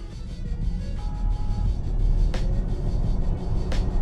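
Volkswagen ID.5 GTX electric car launching from standstill on an open road, a steady low road and motor rumble swelling slightly in level over a few seconds, with faint whine tones and no voices.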